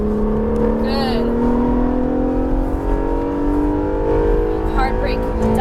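An Acura NSX accelerating hard on a race track, its engine note climbing steadily in pitch as the throttle opens, loud and close from inside the cabin, with an instructor's voice coaching over it.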